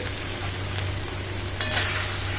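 A taro stem mixture seasoned with coriander powder and salt fries in a pan with a steady, close sizzle. A slightly louder scrape of stirring comes near the end, and no one speaks.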